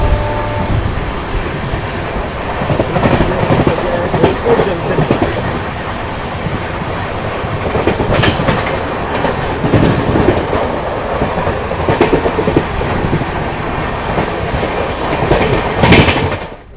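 A Vande Bharat passenger train running between Dholpur Junction and Agra Cantt rolls along steadily, its wheels clattering rhythmically over rail joints with a constant rumbling hum, heard from inside the coach.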